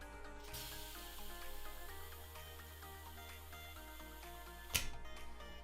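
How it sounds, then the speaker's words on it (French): Gas hisses into an airsoft Storm 360 grenade as it is filled, a steady close spray-like hiss running throughout with faint tonal ringing underneath and a sharp click near the end. "il faut prendre du gaz, donc remplir le gaz comme ça"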